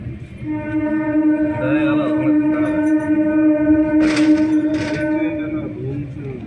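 A steady low rumble of a train in motion, continuous and fairly loud, with two brief hissing bursts near the end.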